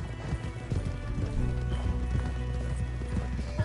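Horse hooves clip-clop steadily in a Resident Evil game, a continuous rhythmic trotting under layered background music and ambience, moderately loud without any voices.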